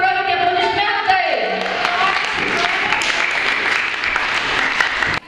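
Applause at a university graduation-thesis presentation, a steady, loud wash of clapping from a crowd that fills the whole stretch, with a voice and music-like tones briefly audible under it at the start.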